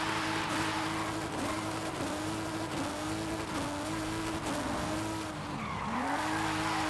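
A drift-tuned car in Forza Horizon 5 skids continuously with tires squealing and the engine droning at high revs, loud and close throughout with no break.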